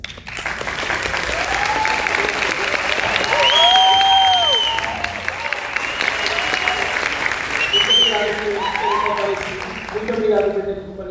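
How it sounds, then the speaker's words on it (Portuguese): A live audience applauds the speakers after a sports psychology talk, a broad steady clatter of clapping lasting throughout, with voices and cheers rising over it midway and near the end. "Palmas para os palestrantes."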